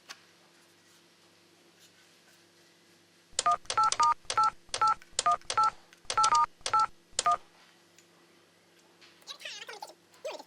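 A retro 1980s-style bag phone sounds a quick sequence of about a dozen distinct keypad dialing tones, close and clear against a quiet background, followed by faint rustling.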